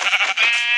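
A single sheep lets out a loud, close, wavering bleat in a village, brief and clear with no voices around it.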